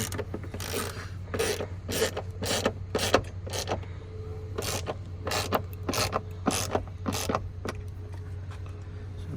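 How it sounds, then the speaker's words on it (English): Bolts being tightened back down on the front bumper of a BMW 650i with an N63 engine, a run of about a dozen quick ratchet bursts in an uneven rhythm over a steady low hum, close and fairly loud. "So Ryan, tighten this shit back down."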